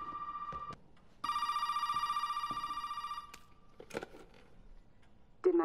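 A telephone rings inside the Resident Evil 7 game world: a shrill electronic bell in two bursts, a short one and then a longer sustained one, followed by scattered clicks and knocks, with no voices.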